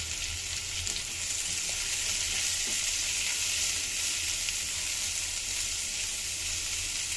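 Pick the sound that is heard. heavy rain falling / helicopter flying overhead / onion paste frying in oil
onion paste frying in oil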